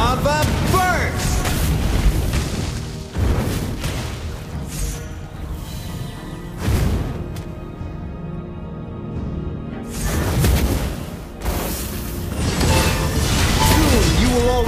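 Valir casting the Lava Burst fire skill in the Mobile Legends game, heavy booming blasts and crashing impacts in repeated bursts, loud and close, layered with in-game voice lines.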